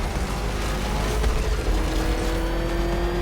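Batmobile tearing around a race track in Batman: Arkham Knight, with a steady, loud engine roar and road rumble that carry on without a break and no voices over them.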